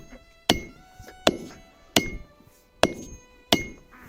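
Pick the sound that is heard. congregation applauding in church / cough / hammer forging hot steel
hammer forging hot steel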